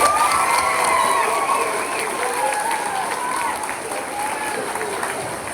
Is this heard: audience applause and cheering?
yes